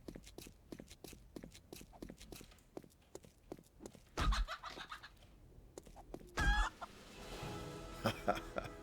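In-game chicken in the survival game 7 Days to Die clucking, mixed with repeated footstep-like clops and a couple of louder rustling bursts, no talk.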